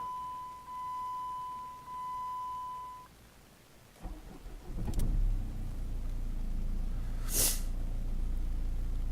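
A Chrysler PT Cruiser CRD diesel with its EGR solenoid unplugged follows a steady electronic beep. It cranks at about four seconds, then settles into a close, steady diesel idle with a sharp knock partway through.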